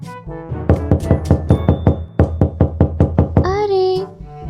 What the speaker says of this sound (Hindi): अरे मैं कब से दरवाजा बजाए जा रहा हूँ, कोई खोलता ही नहीं।